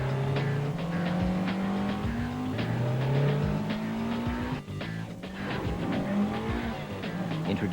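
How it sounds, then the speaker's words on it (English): A Honda S2000 roadster with a 240 horsepower engine revs hard through rising gear pulls in a commercial, with tire squeal and a steady, loud, racing engine note throughout. "Introducing the 240 horsepower S2000 Roadster from Honda."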